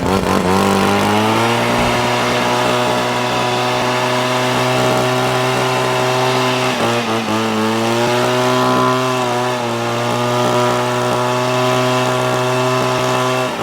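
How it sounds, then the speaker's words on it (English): A Wild Badger Power axial blower attachment blows leaves outdoors with a loud, steady motor whine, holding a constant high drone with a couple of brief pitch dips as the speed shifts, close and uninterrupted by talk. "I don't know if you can really hear the blower going"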